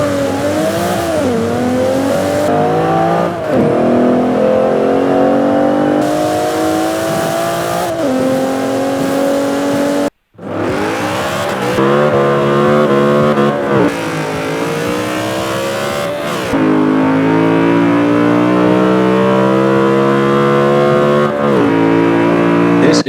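A BMW M3 E92 and an Alfa Romeo Giulia Quadrifoglio roar through a quarter-mile drag race in Forza Horizon 4, engines loud and close with rising revs, sharp gear-change dips and a brief cut midway.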